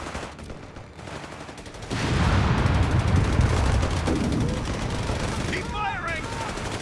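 Gunfire rattles through a Company of Heroes 3 battle as bursts of machine-gun and rifle shots crackle at a distance over a steady rumble of combat, with shouted voices mixed in.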